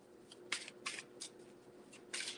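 Tarot cards are shuffled by hand in quiet, irregular bursts of soft riffling and slapping, close by and with nothing else around them.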